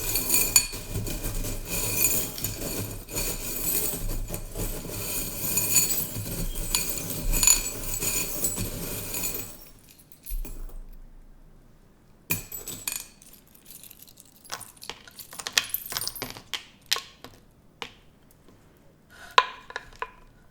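Small charms and trinkets clink and jingle as they are handled, a dense run of metallic chinks followed by scattered sharper clinks in a quieter space.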